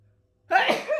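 A single sharp sneeze bursts out after a moment of near silence, loud and close.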